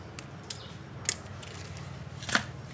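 Wire being snipped off with cutters while making a wire flower, heard as a few short, sharp clicks spaced out over a low background hum, close by.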